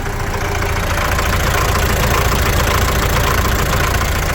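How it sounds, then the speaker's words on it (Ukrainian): A ZIL truck engine idles low and steady, a continuous close mechanical rumble with a faint knocking texture and no talk over it. "Працює тихенько, рівненько."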